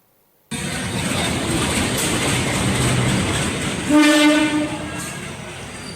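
A long-distance passenger train rushes past in a sudden loud roar of rolling wagons, then sounds a sustained horn blast midway before the rumble continues.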